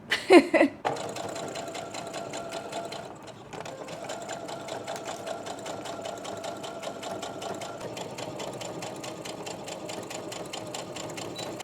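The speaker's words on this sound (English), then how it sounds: "so now I just have to sew them and continue." A sewing machine stitches pleats on a romper, running steadily and close for about ten seconds after a brief handling noise at the start.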